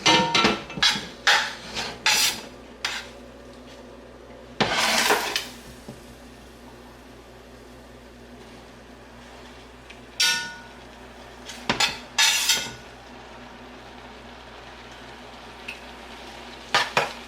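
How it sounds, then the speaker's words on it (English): Linguine tossed and stirred through a bubbling lemon sauce in a pan: bursts of wet scraping and rubbing, busy at first, then broken by long quiet gaps and a few short clusters of stirring near the end, with no talking. "it's time to add our pasta right to the pan"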